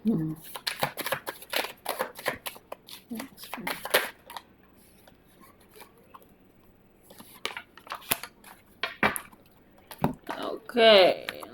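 Tarot cards shuffled and drawn by hand in a pick-a-card reading, a run of quick papery riffles and flicks, then a few isolated taps and a longer shuffle near the end, with a voice speaking between the card sounds.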